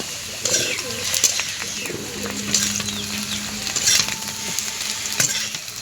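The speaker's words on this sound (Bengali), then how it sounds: "দেখুন আলুটাও লাল লাল করে ভেজে নিয়েছি।" Potatoes and vegetables fry in a pan for a cauliflower dish, a steady close sizzle broken by stirring scrapes, with a bird cooing faintly in the background.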